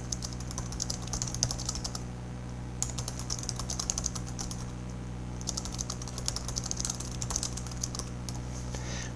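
Typing on a computer keyboard in a few steady bursts of soft, close key clicks over a constant low hum, with no talking.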